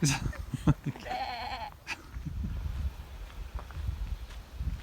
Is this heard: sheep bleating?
yes